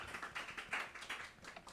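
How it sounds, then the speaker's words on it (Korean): A church congregation at a Korean worship service claps in thanks, a steady rapid patter of many hands at a moderate distance, fairly soft and without pause. "우리 하나님께 감사의 박수를 올려드리십시다"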